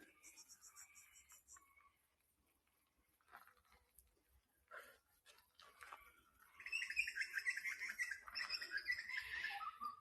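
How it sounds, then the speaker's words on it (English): A tuneful, less raucous bird call rings out during a forest walk, with bright chirping phrases growing louder and more continuous in the second half, close and clear over a quiet background. "I hear a new bird call, more tuneful than the cockatoos, less raucous."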